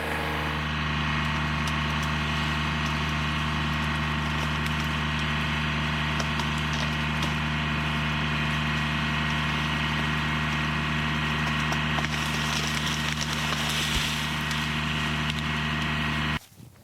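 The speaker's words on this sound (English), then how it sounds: "Dad's gonna do the cedar tree pull, the tractor pull." A tractor dragging a felled cedar tree on a rural property, heard as a steady, loud, droning engine with strong low harmonics, running continuously and then cutting off abruptly at the end.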